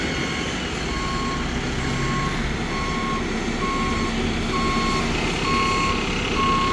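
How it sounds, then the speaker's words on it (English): Asphalt road rollers repaving a street, one big and one small, work under a steady engine rumble while a reversing alarm beeps evenly about seven times, loud and close. "Oh, we got 2 rollers. Big roller and a small roller."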